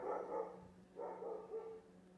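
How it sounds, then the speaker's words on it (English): A dog barks outside in a backyard, giving two muffled, somewhat distant barks about a second apart over a low steady hum. "Why are you barking outside in the backyard?"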